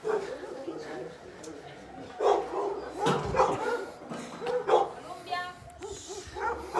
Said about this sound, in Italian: È il momento dei cagnolini.